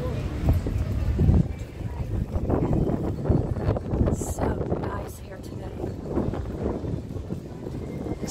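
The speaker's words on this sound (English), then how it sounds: "Partly cloudy and windy." Wind buffets the microphone in loud, rumbling gusts on a partly cloudy day along Tom Sawyer's Island walking trail near water, while a voice talks intermittently over the blustery noise.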